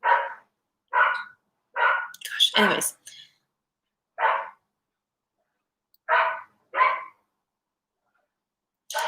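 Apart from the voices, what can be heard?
dog barking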